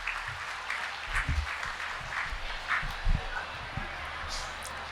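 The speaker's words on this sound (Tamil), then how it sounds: "ஒரு பலத்த கைத்தட்டலோடு பாராட்டி" An audience claps warmly for a woman teacher invited to speak at a Tamil pattimandram debate; the steady applause runs throughout with faint voices and scattered bursts mixed in.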